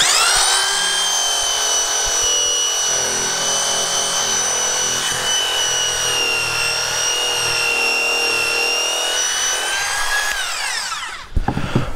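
A power sander fitted with a roller works across weathered wooden cladding, giving a loud, sustained, close-up whining hum with a rough rubbing texture, then winding down near the end.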